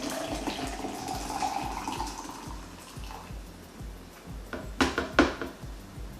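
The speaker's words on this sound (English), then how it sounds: "Now we're going to take our 4 cups of boiling hot water and pour it" Four cups of boiling water poured into a French press for homemade kombucha, a soft steady splashing stream that trails off, followed by a few sharp clinks of glass or lid near the end.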